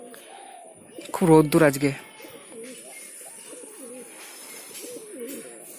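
Pigeons in a loft give repeated low, throaty coos that continue steadily after a short burst of speech near the start.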